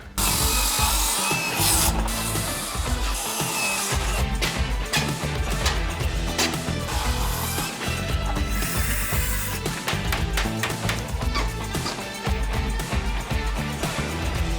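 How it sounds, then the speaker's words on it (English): An old wooden workbench is torn apart in an abandoned garage: repeated cracking, banging and scraping of wood and nails, loud and close, in irregular bursts throughout, with no talking. "Let's break down this workbench."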